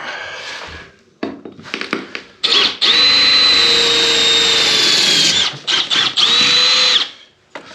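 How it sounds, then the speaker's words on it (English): A power drill bores a pilot hole down through a tiled barn floor, running in long steady whining bursts with short stop-start pauses between them, loud and close. "what I'll do is drill a pilot hole through there"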